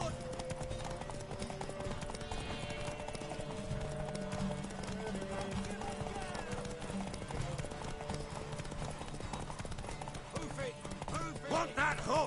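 Hooves clip-clopping steadily in The Witcher 3: Wild Hunt, a horse moving at a walk or trot with a neigh or whinny near the end, set against in-game music and ambience.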